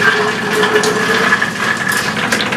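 Water pours steadily and loudly into a container of rinsed wild grape clusters for homemade wine, a continuous gushing fill with no pauses.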